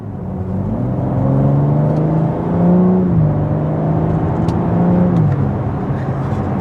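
Engine of a BMW G80 M3 Competition xDrive under half-throttle acceleration from inside the car, a smooth rising growl that climbs through several gear changes, each marked by a brief dip before pulling up again, with no talking.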